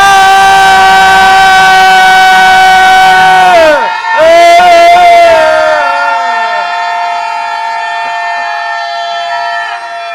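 A church congregation lets out a loud shout together in unison, a sustained, ringing roar that breaks briefly near the middle and then slowly fades out.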